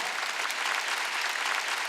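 A church congregation claps during a Wednesday worship service, a steady, even wash of applause sustained for the whole moment.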